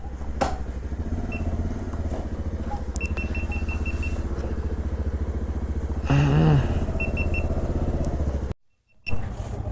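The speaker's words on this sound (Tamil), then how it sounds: "ஸோ வாங்க பைக் எடுத்துகிட்டு பறப்போம்." Motorcycle engine running close by with a steady low throb and a brief louder rev partway through, then a sudden short dropout before the engine sound returns.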